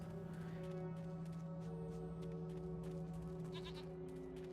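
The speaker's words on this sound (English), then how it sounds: "Hey, look, a goat." A goat bleats over a steady, droning soundtrack in the video game Jade Empire, the cries blending into the continuous background.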